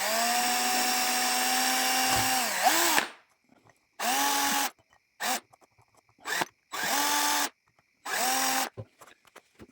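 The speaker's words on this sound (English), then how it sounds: "I'm also going to use my small drill bit to drill out small 4 holes" A high-pitched power drill whines in a long burst, then in several short on-off bursts separated by silence, drilling small holes in an aluminium soda can.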